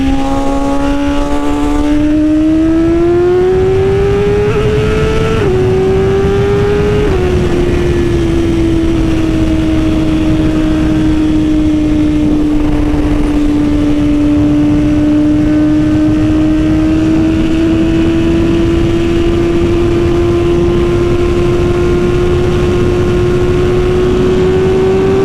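A carbon-bodied BMW S1000RR sport bike pulls hard in sixth gear, its engine note climbing in a steady sustained wail close by, with a brief hitch early on before the high-rpm tone holds steady alongside wind roar.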